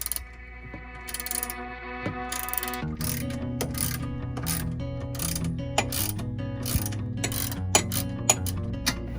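A ratchet socket wrench fitted with a T40 torque bit unscrews the seat bolts in a van during a swivel seat install. It gives rapid, close ratcheting clicks in bursts over a steady mechanical hum.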